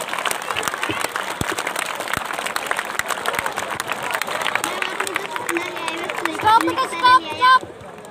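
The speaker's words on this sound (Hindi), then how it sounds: "इन बच्चों के लिए तालियां बजा दो।" An audience claps for children at a motivational talk for UPSC aspirants, a dense, steady round of applause with crowd murmur, and a voice speaking briefly over it near the end.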